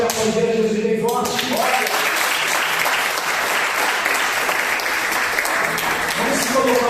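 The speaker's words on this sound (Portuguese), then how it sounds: "Pode aplaudir a Jesus bem forte." Church congregation applauding strongly during a worship service, a dense steady wash of clapping that fills the room after a preacher's voice at the start, with spoken words and singing tones rising again near the end.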